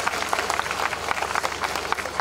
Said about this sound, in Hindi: जोरदार तालियों के साथ हम स्वागत करते हैं इस मंच पर.